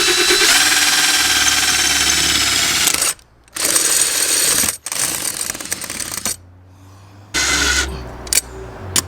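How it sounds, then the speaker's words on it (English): A power drill boring holes through wood: loud, steady whirring runs in several bursts, broken by short silent pauses, with a final shorter run near the end. "Yeah, I know, I drilled through the wood."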